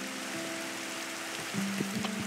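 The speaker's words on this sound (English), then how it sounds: "It's raining at the normal speed." Rain falls in the Minecraft video game as a steady soft hiss of patter, with a low tonal hum and a few brief game sounds layered over it and no voices.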